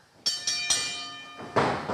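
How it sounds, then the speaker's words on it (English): A bell rings in several sharp, metallic strikes, three quick ones then another, each ringing on with a bright sustained tone. "Oscar, ring that bell"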